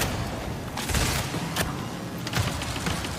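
Gunfire in the video game Marathon: bursts of sharp shots crackle over continuous dense background noise, several distinct cracks spread across the moment, fairly loud.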